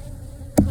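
Honey bees, including drones, buzzing loudly and close during a hive inspection, a dense continuous hum broken near the end by a sharp thump of handling.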